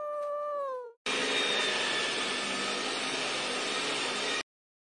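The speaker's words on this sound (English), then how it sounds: "The cat is scared of the vacuum cleaner." A vacuum cleaner starts abruptly after a brief cat-like cry and runs as a loud, steady roaring whir for about three and a half seconds before cutting off sharply.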